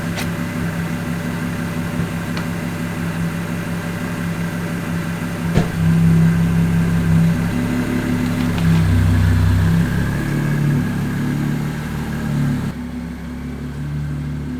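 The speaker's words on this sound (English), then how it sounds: "We'll take it for a test drive." An Audi S4 fitted with a dual pulley supercharger drives on a test run, its engine humming and rising in revs under a steady cabin drone, with a brief knock partway through and no talk.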